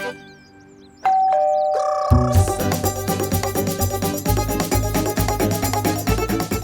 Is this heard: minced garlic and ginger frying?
no